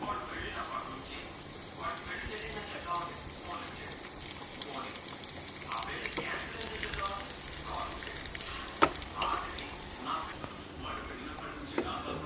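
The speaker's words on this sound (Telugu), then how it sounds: "పోపు వేగుతుంది" Tempering of dried red chillies, asafoetida and curry leaves frying in hot oil for dal, a steady crackling sizzle with occasional sharp pops, heard under ongoing talk.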